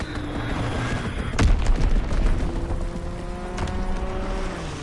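A strafing-run airstrike in the World War II shooter Call of Duty WW2: a dense, roaring engine drone with a heavy boom and scattered gunfire bursts, loud and continuous throughout.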